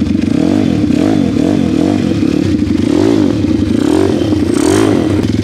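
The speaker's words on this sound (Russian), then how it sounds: "Давайте заведем этот питбайк, посмотрим, как он работает." A XMOTOS 150 pit bike engine, a more powerful version, fires up and runs loud and close, with steady revving pulses and some mechanical clatter throughout, no voices.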